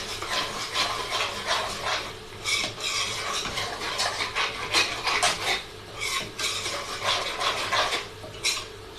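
A chicken kadai is stirred in a pan: steady, busy scraping and clinking of a utensil against metal with rhythmic rasping strokes, close and loud throughout, no voices.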